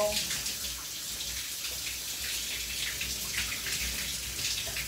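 Water runs steadily from a shower or tap in a home bathroom during cleaning, a continuous hiss that stays even throughout with no talk over it.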